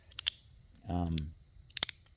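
A stainless steel magnetic ball slider fidget toy snaps with sharp metallic clicks in small clusters, close and crisp, while a short spoken phrase sits between the snaps.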